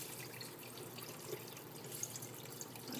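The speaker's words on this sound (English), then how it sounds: "I'm going to pour water in, filtered water again" Filtered, fluoride-free water pours into a crock pot for bone broth, a steady close splashing stream running throughout without pause.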